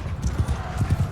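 Horse hooves gallop in Mount & Blade II Bannerlord, a fast, steady clip-clop of several strikes close by during a battle, with faint speech in the background.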